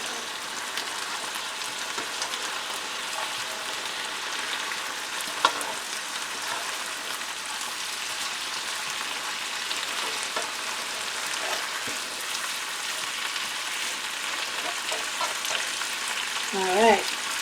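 Bacon bits fry in a pan with a steady, close crackling sizzle that runs unbroken throughout, one brief knock midway and a short louder rustle near the end.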